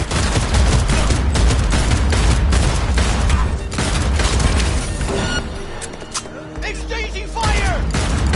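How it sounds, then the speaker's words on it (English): A loud gunfire exchange in Cyberpunk 2077, with rapid overlapping shots and heavy booms that are dense at first, then thin out into scattered mechanical clatter and a low rumble, with voices shouting under it. "Exchanging fire!"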